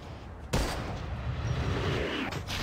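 Gunfire in the shooter game Unkilled, a sudden loud blast after a quiet half-second and then a dense, sustained barrage of shots and booms.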